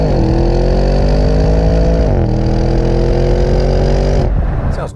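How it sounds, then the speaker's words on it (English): Porsche Cayenne Turbo's twin-turbo 4-litre V8 pulling hard, a loud, smooth rising drone climbing steadily, dipping briefly at a gear change, then climbing again before easing off at the end. "This is quite a smooth sounding V8 engine."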